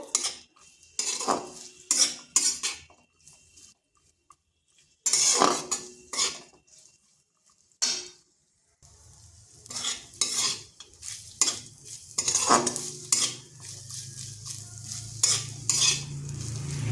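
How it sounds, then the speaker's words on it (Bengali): Grated coconut is lightly fried in a pan while a spoon scrapes and stirs it, giving bursts of clattering strokes between pauses, then a soft sizzle underneath later on, close and clear. "আর দিচ্ছি নারকেল কুড়া। এগুলোকে হালকা একটু ভেজে নেব।"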